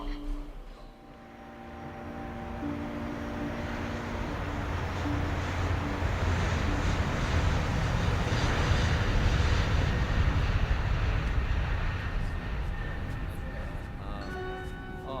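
An airplane engine sound effect in a radio drama swells from quiet into a broad steady roar, then eases back, with voices heard over it near the end.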